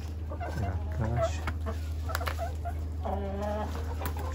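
Blue roosters in a coop cluck and murmur in short, irregular bursts close by, over a steady low electrical hum.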